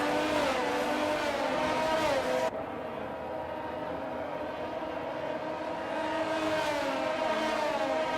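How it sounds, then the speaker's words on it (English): Formula 1 race cars roll around a formation lap in the F1 22 racing game, a continuous loud engine drone that cuts to a quieter car sound partway through and then swells again. "The formation lap is underway"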